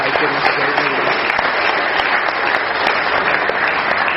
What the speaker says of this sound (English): Let's give one more quick round of applause to Marko for speaking tonight